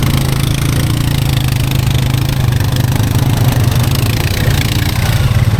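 Honda Fourtrax 300 ATV engine idling during a swamp ride, a loud, close, steady low-pitched putter that holds an even rhythm throughout with no revving.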